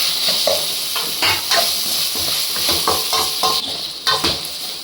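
Chicken liver and gizzard masala frying in a pan, with a steady close sizzle and repeated scraping stirs and metal clinks against the pan.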